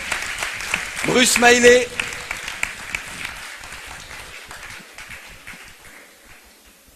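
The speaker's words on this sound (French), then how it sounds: "je vous demande d'applaudir" An audience applauds a juror on a televised IQ quiz show, a short swell of clapping rising then fading under a host's continuing voice.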